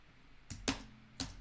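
Three sharp, close clicks from a laptop keyboard, spaced unevenly over a second and a half against a quiet background, as keys are pressed.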